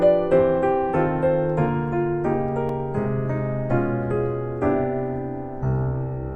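Keyboard chords move through a rapid sequence of key changes over a bass line stepping down chromatically, each chord struck cleanly and ringing with a steady pulse of new attacks.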